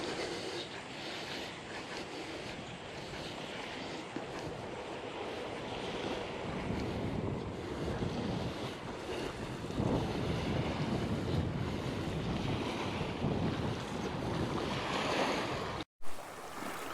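Ocean waves wash steadily onto a beach at Ocean City, Maryland, a continuous surf roar mixed with gusting wind buffeting the microphone.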